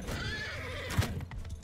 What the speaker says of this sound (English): I think we could take down the horse